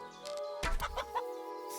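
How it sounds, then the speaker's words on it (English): Chickens cluck in Kingdom Come: Deliverance II, a few short, close squawking bursts over a steady game ambience with a low thump partway through. "Those evil chickens."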